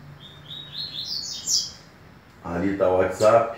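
Coleiro birds (Sporophila) sing bright, rising chirps and whistles at a songbird tournament, close and lively over a steady background hiss, with someone talking over the later part.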